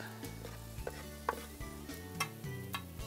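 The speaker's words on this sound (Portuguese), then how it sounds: "vamos colocar o alho e a pimenta" Garlic and pepper sizzle in a pan for feijão tropeiro, a short stretch of frying hiss broken by scraping stirs and light clinks of a utensil against the pan.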